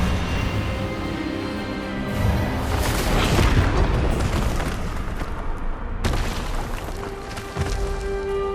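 A spell blast cast in Hogwarts Legacy: a loud, rumbling magical burst that swells over a few seconds, with a sharp cut and a second bright impact near the end, over steady game ambience.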